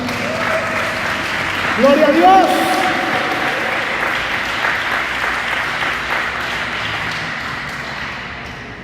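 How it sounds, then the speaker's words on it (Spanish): A church congregation claps during a worship service, sustained applause with shouted praise and voices mixed in, peaking early and then continuing at a steady level before easing off. "Dale un fuerte aplauso al Señor."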